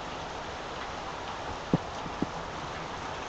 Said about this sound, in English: it's raining like crazy, and it has been for the last couple days